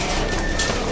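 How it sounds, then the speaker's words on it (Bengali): Giribaj pigeons coo inside a busy pigeon shop in Khulna, their brief low calls half-buried in dense, noisy background clatter. "আজকে ম্যাক্সিমাম সবই গিরিবাজ কবুতর আছে।"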